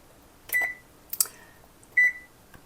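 An oven control panel being set to preheat to 350, three short electronic beeps with soft button presses between them, close and clear in a quiet kitchen.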